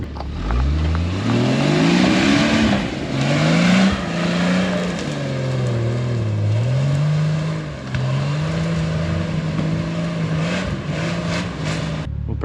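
An off-road vehicle's engine labors over big rocks on an extreme trail, revving and pitching up and down in a steady, close, loud drone that drops off abruptly at the end.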